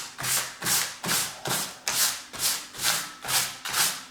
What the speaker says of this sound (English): just going to rub it over with this piece of paper